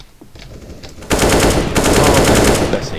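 Sustained automatic AK rifle fire in a video game, a loud close burst that starts abruptly after a quieter second and rattles on continuously to the end of the clip with no talk over it.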